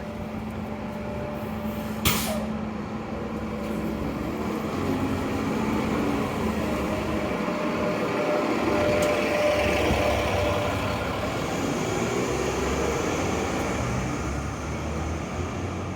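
A city bus, route 7A to Scotia Square, rumbles nearby on Gottingen Street with a steady engine drone, after an early sharp burst that may be its air brakes.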